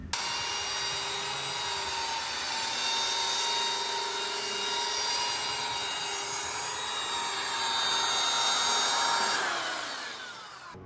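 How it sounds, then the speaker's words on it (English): A belt sander runs steadily and loudly on a wooden dining table for about ten seconds with a whining, grinding tone, then winds down near the end. "We're gonna smooth that out with the sander."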